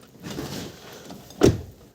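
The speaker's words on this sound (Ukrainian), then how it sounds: "Зараз я ризикну все-таки закрити двері." Driver's door of a Volkswagen Touran swung shut, a single sharp thud near the end after a quiet rustling lead-in, close and alone.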